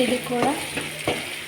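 Ginger paste fries in hot oil for an egg curry, giving a soft, close sizzle broken by a few quick scraping stirs of the spoon in the pan, with a brief voice in the background.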